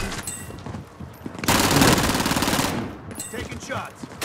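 Loud, close bursts of automatic gunfire in the Call of Duty: Warzone battle royale, with a sustained stretch of rapid shots in the middle framed by shorter volleys before and after.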